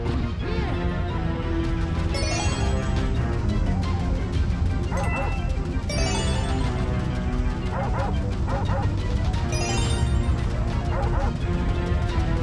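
A dog barks in repeated short bursts against a dense, continuous background of other sound, with some talking mixed in.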